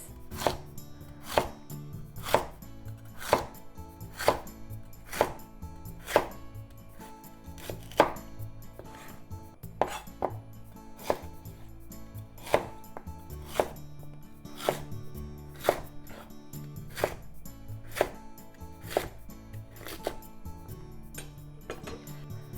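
A knife slices lotus root on a cutting board in a steady series of sharp, evenly spaced chops. About fifteen crisp knocks land close and clear, with faint kitchen room tone between them and no talking.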